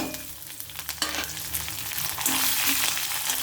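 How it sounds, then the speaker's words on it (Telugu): Ingredients for a poha (flattened rice) dish sizzle and fry in a pan, a dense crackle with scraping stirs, the sizzle swelling louder toward the end. "వేగిన తర్వాత ఇవి కూడా వేసుకుని వేయించేసుకుందాం"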